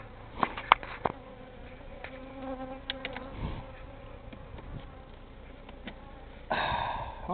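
Honeybees buzz and whine around an open top bar hive during an inspection, with faint scattered clicks and taps, then a louder buzzing swell near the end.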